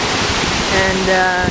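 Gallu waterfall in the Western Ghats, a steady broadband rush of falling water heard from a nearby viewpoint, continuous throughout with a voice speaking briefly over it.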